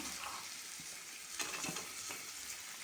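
Frozen peas hit a pan of frying potatoes and set off a soft, steady sizzle, faint and close, with a few light stirring clicks.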